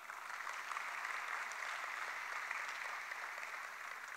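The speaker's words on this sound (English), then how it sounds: "How about a round of applause for them?" A faint, steady wash of audience applause at an indoor tennis center dedication ceremony holds an even level for about four seconds with no voices over it.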